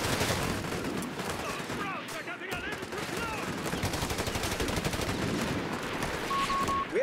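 Light machine gun bursts rattle in Company of Heroes 3 amid dense battlefield gunfire, continuous and loud throughout, with scattered shouted voices and in-game chatter mixed in.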